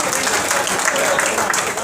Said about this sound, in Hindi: एक बार 2000 तालियां बजा दो